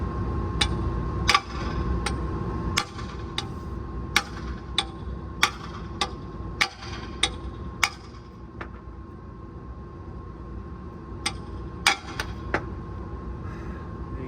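Sharp metallic hammer strikes on the threads of a worn lower ball joint being knocked out of a 1992–2000 Honda Civic, about fifteen evenly spaced clanging blows with brief pauses, close and loud over a low background hum.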